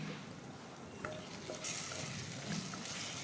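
Turmeric powder sautéing in a pan over medium flame for Kerala-style rasam, giving a steady soft sizzle with faint stirring scrapes, close and continuous with no talk.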